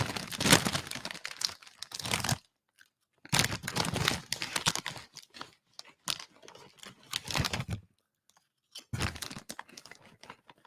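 Someone crunches and rustles Space Raiders crisps and tangy cheese Doritos in bursts of crinkly bag handling and chewing, separated by short silences.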